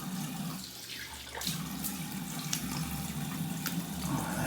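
Cold tap water runs steadily into a bathroom sink for rinsing a freshly shaved face, a close, even splashing stream that swells slightly partway through, with no talking.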